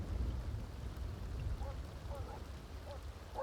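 Thunderstorm in The Sims 2, a steady wash of rain over a low rumbling of thunder, continuous and moderately loud, with faint game tones and chirps drifting in over it.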